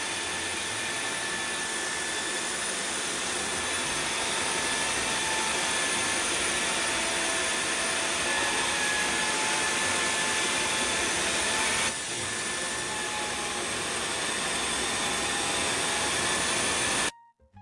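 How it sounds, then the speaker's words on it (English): Jimmy PW11 Pro floor washer scrubber running steadily and spraying, a loud, continuous broadband whir with a constant motor hum that holds evenly throughout with a brief dip near the middle before cutting off at the end. "the scrubber is so performant you can use it directly even for dust, as you see it sprays"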